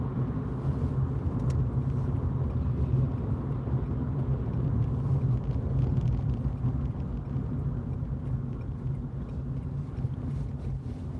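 Steady road rumble and engine drone from inside a car cruising at about 40 mph toward Wigan near midnight, a continuous low hum with wind noise and no talking.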